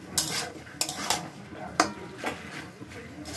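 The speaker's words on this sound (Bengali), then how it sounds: "এবার আমি বাঁধাকপিটাকে একটু ভাজা ভাজা করে নেব" Sliced cabbage being stir-fried in a karahi, with repeated sharp spatula scrapes and clanks against the pan over a soft sizzle, close and fairly quiet.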